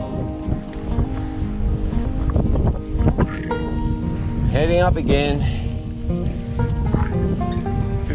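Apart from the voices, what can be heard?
wind blowing during fat bike touring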